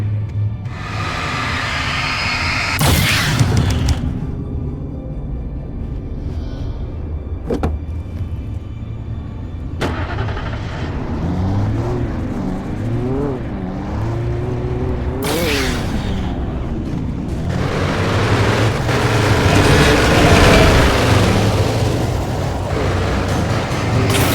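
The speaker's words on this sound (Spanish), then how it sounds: "¡Coches de choque! ¡Una carrera!" Bumper cars race in Alan Wake, loud whining motors revving and shifting pitch close by, broken up by sharp clattering impacts and bumps.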